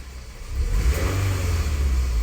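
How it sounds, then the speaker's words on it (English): A 2008 Scion tC engine idles steadily and smoothly after a misfire repair, a close, even low rumble with a slight rise partway through, heard from inside the car with no talking. "We're not idling rough."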